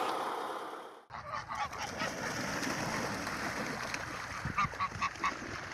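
Geese honk in a loose, repeated chorus from a flock at a moderate distance on a farm, with a steady outdoor background hum.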